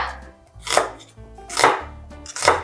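Half an onion being chopped coarsely with a knife on a cutting board, three distinct, evenly spaced cutting thuds heard close up with nothing else in the background.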